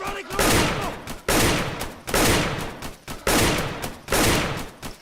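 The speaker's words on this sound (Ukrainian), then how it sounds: "Так, з кулемета стріляю." Rapid machine gun fire in loud sustained bursts, four or five volleys separated by brief pauses, harsh and close with game-like sound, from a police-versus-terrorists video game.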